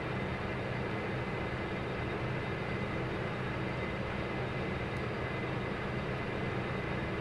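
A simulated Majestic Q400 turboprop engine starting up in FSX gives off a steady, even whirring drone as the propeller RPM slowly builds.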